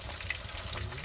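Catfish frying in hot oil with a fish sauce and ginger preparation, a close, steady sizzle and crackle over the short moment.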